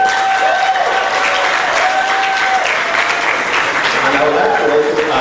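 Audience at a university geography alumni lecture and award ceremony applauds steadily and loudly throughout, a dense sustained clapping with a voice speaking over it.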